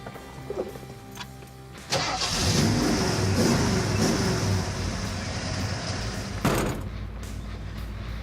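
A 1966 Ford Mustang cranks over and fires at about two seconds, then settles into a loud, steady rumbling idle with a blip of revs near the end, close to the listener.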